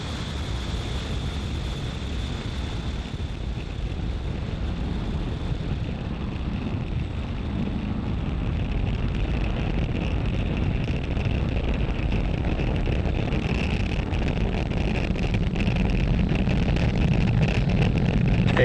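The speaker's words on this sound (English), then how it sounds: "Falcon 9 has successfully lifted off from Space Launch Complex 40 in Cape Canaveral, Florida" A SpaceX Falcon 9 carrying Starlink satellites lifts off from Space Launch Complex 40 at Cape Canaveral, Florida, a broad continuous rumbling roar mixed with wind buffeting that slowly builds in loudness and crackle; no speech.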